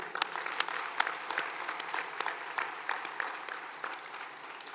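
Applause from a crowd at a university commencement ceremony, steady clapping from many hands at a moderate distance, sustained throughout and slowly thinning toward the end.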